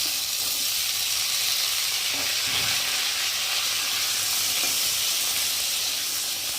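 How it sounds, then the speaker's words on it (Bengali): Potatoes fry in oil with a spice tempering and torn green chillies for ghugni, making a continuous, even hiss of sizzling oil at close range, with a soft clink or stir midway and no speech. "আমি ফোড়নের সাথে আলুটাকে ভালো করে ভেজে দেব"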